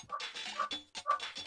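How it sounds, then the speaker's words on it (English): Several sharp, yelping dog barks in quick succession, fairly close and loud, with brief gaps between bursts. "I hear barking in the background"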